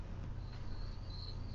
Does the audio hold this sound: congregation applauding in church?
no